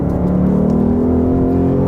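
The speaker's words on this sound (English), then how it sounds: "That was full throttle, high RPM, and it just hangs on." A 2023 Ford Mustang GT V8 with manual gearbox pulls at full throttle and high RPM, a loud, close, steady engine roar with a rising tone heard from inside the car.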